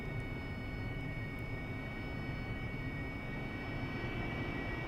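An AV-8B Harrier jet taxiing at night in the DCS World flight simulator, a steady engine roar with a high whine on top, constant and unchanging, with no talking.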